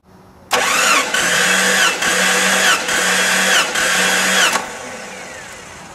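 An 1989 Jeep Cherokee engine cranks over on the starter during a wet cylinder compression test, four loud, even rhythmic cranking bursts in a row that then stop abruptly.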